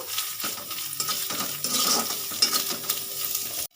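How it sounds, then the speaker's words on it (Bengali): A spice masala with salt for potol (pointed gourd) stuffing stirred in a pan, close scraping and rattling strokes of the spoon over a soft sizzle, ending abruptly, with no speech. "হালকাভাবে একটু নেড়ে চেড়ে নেব"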